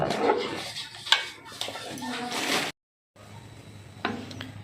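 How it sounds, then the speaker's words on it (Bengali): Payesh being stirred with cardamom powder in a pot: spoon scrapes and light clinks against the metal, close, with someone talking over much of it and a brief silent gap before more stirring. "আমি এলাচের গুঁড়ো দিয়ে দিচ্ছি দিয়ে ভালো করে একটু মিশিয়ে নিচ্ছি"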